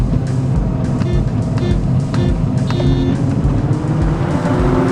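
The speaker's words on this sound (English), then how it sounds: "this engine just gets more and more furious" A Mazda Miata sports car engine roars steadily and loud, its pitch climbing as it revs harder through second gear, with a constant low rumble throughout.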